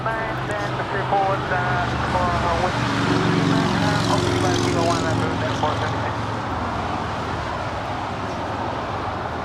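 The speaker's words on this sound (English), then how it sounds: "That is a Latam Airlines 767-300ER just landed here, coming in from Lima" A LATAM Airlines Boeing 767-300ER arriving from Lima lands at Los Angeles International Airport, heard as a broad, swelling jet roar that peaks and then slowly fades under ongoing talk.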